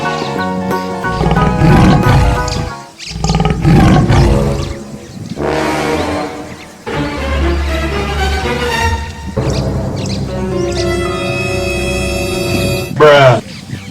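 A Siberian tiger roars in several loud bursts, with a voice speaking near the end.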